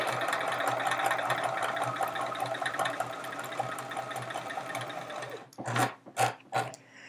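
A sewing machine stitching a chevron quilt row runs with a steady close whir for about five seconds, then stops, followed by a few separate clunks and thumps.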